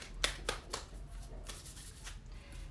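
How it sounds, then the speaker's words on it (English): Mantra cards being shuffled by hand: a few crisp riffling snaps near the start, then softer intermittent card rustles, close and fairly quiet, with no talking. "So I'm shuffling them now."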